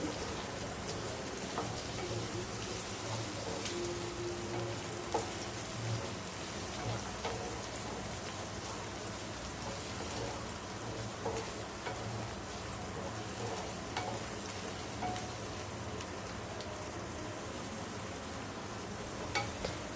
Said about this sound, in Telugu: క్యాప్సికమ్ క్యారెట్ బాగా ఫ్రై చేసుకోవాలి.